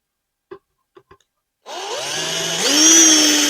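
Power drill driving a 3-inch deck screw into wood while building a chicken brooder: a few light taps, then the motor whirs up steadily and rises in pitch, loud and close.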